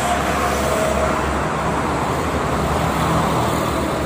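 Starbus bus passing on a busy toll road near Jakarta, a steady loud engine and tyre rumble blending into continuous traffic noise, close by with no clear gaps.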